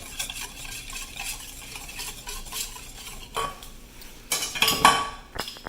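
A spoon slowly stirs lava cake batter in a bowl, soft scraping with a few light clinks of utensil against the dish, close and quiet.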